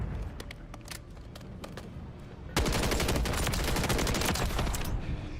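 A light machine gun in the video game Modern Warfare III fires a loud, sustained automatic burst that starts abruptly midway, after a few quieter scattered shots.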